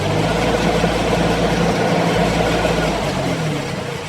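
A Kubota tractor engine runs steadily and loud up close, a low diesel drone with little change as it pushes a fence post down into dry, hard ground.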